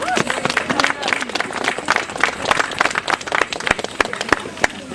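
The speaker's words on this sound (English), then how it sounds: "Let's give them a round of applause." Scattered, uneven clapping from a small gathering at an outdoor Christmas house-lighting event, greeting a choral trio; individual claps stand out sharply amid a thin crowd murmur.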